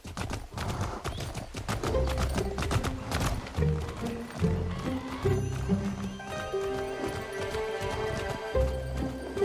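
Horse hooves clip-clop steadily with an occasional whinny in the video game Fable, set in a peaceful farming town, layered over continuous game music and ambience.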